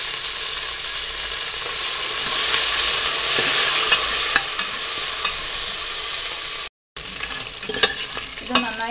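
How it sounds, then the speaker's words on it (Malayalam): Cumin, pepper, crushed ginger and curry leaves sauté in a pan for pongal, a steady close sizzle with scattered scraping stirs, a brief dropout, then livelier crackles toward the end; no talking. "ഇതെല്ലാം ഇട്ടിട്ട് ഒന്ന് വഴറ്റണം. അതിൽ തന്നെ നമ്മൾ എടുത്ത് വെച്ചിട്ടുള്ള കറിവേപ്പില ഇട്ട് കൊടുക്കാം."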